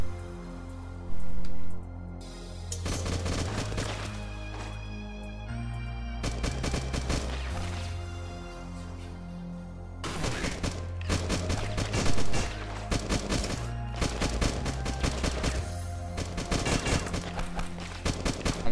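Dense bursts of enemy gunfire crackle from several directions in the video game Beyond Sunset, rapid volleys and single shots overlapping over a steady low in-game music bed, loud and continuous with brief lulls.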